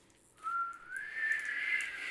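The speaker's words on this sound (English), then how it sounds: "Great whistling." A single clear whistled note rises and then holds steady for a couple of seconds, fairly close and alone.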